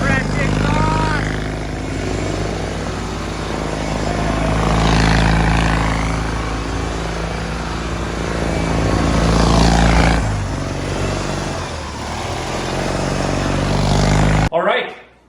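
A Briggs opposed-twin engine on a mud mower runs through a new exhaust, a loud close throaty drone that swells and fades in revs before cutting off at the end.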